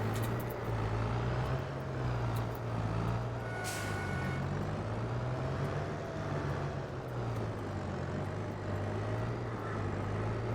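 Truck engine idling low and steady in Farming Simulator during wood chipping work, with a brief sharp hiss of air brakes partway through and no talk.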